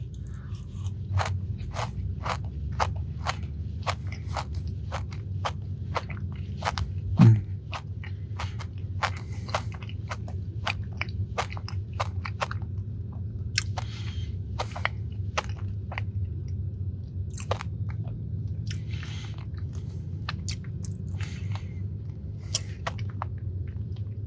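A crunchy Dubai chocolate brownie is bitten and chewed close up, with dozens of sharp, crisp crunches repeating steadily throughout and one louder bite early on, no talking.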